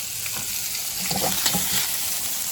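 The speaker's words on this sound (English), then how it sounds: "I'm going to let the shrimp cook just a little bit longer." Shrimp fry in bacon grease in a pan, a close, steady sizzle with light stirring scrapes and spatters over a short stretch.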